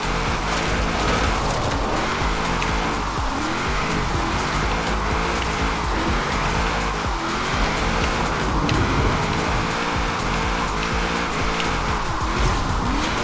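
A 2013 Toyota GT86 with itasha livery in Forza Horizon 4 drives hard, its engine revving steadily up and down through gear changes with repeated tire squeal, loud and close throughout with no talking.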